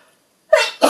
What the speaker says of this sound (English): I'm about to sneeze, so I apologise, but I'm going to sneeze.